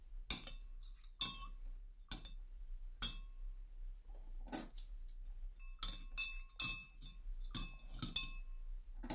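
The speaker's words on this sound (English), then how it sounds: "get yourself a glass of water, and then you just need to submerge your silver coins in the water." Sharp metallic clinks ring out as silver coins drop into a glass of water, a dozen or so irregular taps and chimes, close and fairly quiet with brief ringing tones between them.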